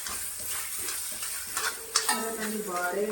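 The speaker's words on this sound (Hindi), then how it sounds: "और डाल करके हम कमलगट्टे को भूनेंगे।" Lotus seed paste roasting in ghee in a kadhai over a medium flame, stirred steadily, giving a soft continuous scraping and light sizzle with a few sharper spoon knocks near the end.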